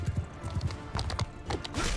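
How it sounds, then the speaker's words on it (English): Horse hooves galloping in Mount & Blade II Bannerlord, a quick rhythmic clip-clop of close, moderately loud hoofbeats running steadily throughout, with a brief whinny-like sound near the end and no talking. "make that horse run"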